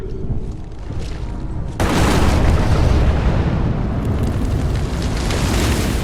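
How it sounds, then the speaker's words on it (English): A sudden, loud explosion in a video game bursts in and becomes a sustained roaring rumble that fills the rest of the clip, with no voices. "Now that is how you shape an explosion."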